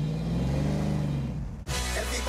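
A tuned car in Miami with a 600-horsepower Chevrolet Corvette engine accelerates, its close, loud engine note rising steadily before cutting off abruptly, then resuming briefly.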